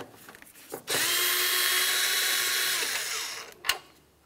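A power tool spins on two 8mm headed bolts under a removed plastic panel of a 2009–2019 Ford Flex, one steady whirring run of about two and a half seconds with soft clicks before and after.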